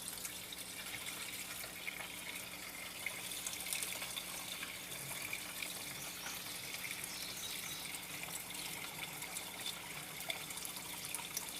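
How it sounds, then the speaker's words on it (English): Water is poured to top off the coolant in a Ford F-150 truck, a faint continuous trickling and splashing that runs steadily and quietly with no talk. "Now what I'm doing is I'm just topping it off with some water."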